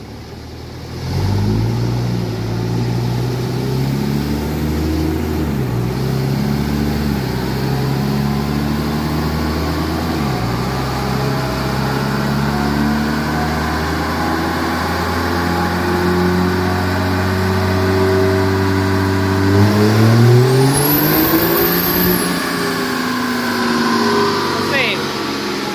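Cummins-powered Ram diesel truck with very wide deep-dish tires running hard on a chassis dyno, a loud steady engine drone rising in pitch through the gears, with several shifts and one long pull, a whistle sweeping near the end.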